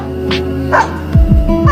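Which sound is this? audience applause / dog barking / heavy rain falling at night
dog barking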